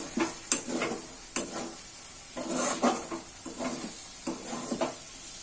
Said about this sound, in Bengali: এরকম নিচ থেকে ভালো করে চিনিটা ঢুকিয়ে নেড়ে নিতে হবে, নাহলে কড়াইয়ের নিচে লেগে যাবে